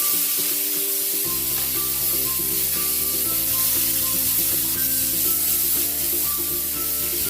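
Onion and tomato stir-fried in a pan give a loud, constant sizzle with scraping stirs, while a steady tonal backing drone runs underneath.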